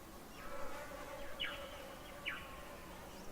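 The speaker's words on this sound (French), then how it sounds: "Écoutez les différentes mélodies des oiseaux et comme elles semblent se répondre harmonieusement les unes aux autres." Birds call in a forest, with a few brief chirps and twittering phrases rising above a soft, steady woodland hiss; the calls are light and somewhat distant, spaced irregularly through the quiet.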